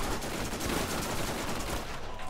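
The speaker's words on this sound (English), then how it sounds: "Just bullets everywhere. Everywhere. That's Wallace still shooting." Sustained, dense automatic gunfire in the co-op shooter game Borderlands, with continuous rapid bursts and overlapping shots filling the whole moment at close range.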